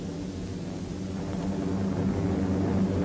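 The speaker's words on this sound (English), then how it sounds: "From the airstrips near Lae, now in Allied hands, American and Australian planes continued the attack against the enemy" WWII American and Australian warplanes fly from airstrips near Lae, New Guinea, a steady loud propeller-engine drone that holds and swells slightly throughout.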